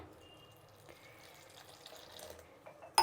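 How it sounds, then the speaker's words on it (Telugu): Water poured into onion bonda batter in a bowl, a faint trickling and splashing pour with soft drips, quiet and close, ending in a short louder clatter. "ఇప్పుడు నీళ్ళు వేసుకుందాం."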